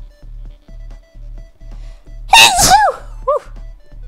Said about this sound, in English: giant sneezes came out all of a sudden